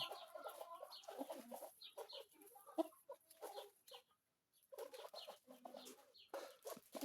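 Large, growing chicks cluck and chatter in a coop, a busy overlapping stream of soft clucks and short calls from several birds nearby, briefly dropping to a quiet gap before resuming.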